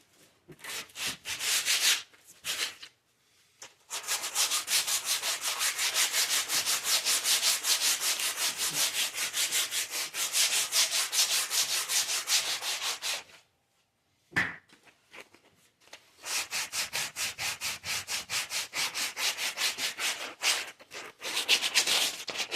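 Dry sandpaper rubbed back and forth over a steel axe head in long, steady strokes, with brief pauses between runs; close and fairly loud, no talking.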